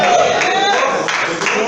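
A church congregation applauding during a service, a dense wash of clapping and crowd noise, loud and near, with a voice speaking over it.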